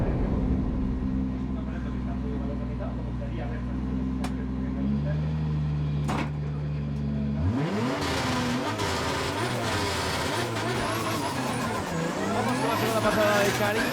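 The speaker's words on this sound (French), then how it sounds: "espectacular la tracción que le ofrece el BMW a Karim Jahan" A BMW 1 Series M Coupé drift car at a Drift Spain event in Andorra: the engine drones steadily, then from about 7.5 seconds loud rising and falling revs with tyre noise, under a commentator's continuous talk.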